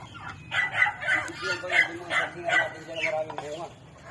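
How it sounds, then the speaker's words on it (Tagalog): Several chickens crow and cluck in quick succession nearby, a busy run of calls over faint background noise. "Oh, ang dami manok ka na ah."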